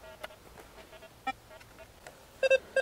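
Short electronic beeps from a Rutus Versa metal detector sweeping a drained, formerly marshy cornfield, a few scattered tones then a quick repeated pair of louder bleeps near the end, fairly quiet with no talk.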